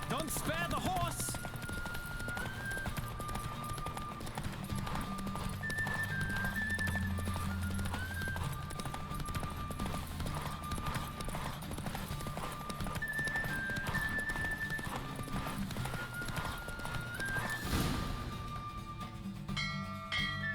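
Horse hooves clip-clop at speed through a race in the Witcher 3 video game, a steady rhythmic patter under game music and effects, with voices briefly heard.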